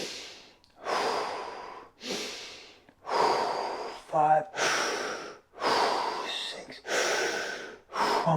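Deep, forceful breaths during a fascial breathing exercise: a steady cycle of long, loud, rushing inhales and exhales close up, with a brief spoken count in the middle.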